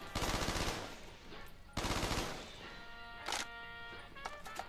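Rapid automatic gunfire from a weapon in Black Ops 3 Zombies comes in two loud bursts, followed by a tonal ringing in-game effect.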